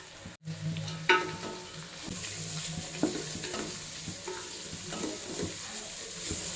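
Carrots and beans sizzle and stir-fry in a pan while vegetables are cooked for Hakka noodles, with a steady soft hiss, occasional scrapes and clinks of the spatula, and no talking.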